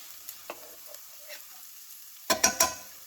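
Garlic and onions cooking in olive oil over medium heat in a pan, with a few sharp spoon scrapes and clatters of stirring, a louder burst of three quick knocks near the end, and a faint sizzle underneath.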